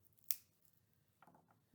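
Scissors trim a branch for a heart branch craft, giving one sharp, close snip followed by a few faint, soft clicking handling sounds in a quiet room.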